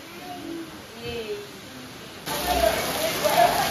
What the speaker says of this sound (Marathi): पाऊस पण भरपूरच आहे